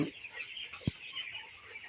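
A few soft clucks from broiler chickens on a farm, one short sharper cluck standing out, fairly faint against a quiet background.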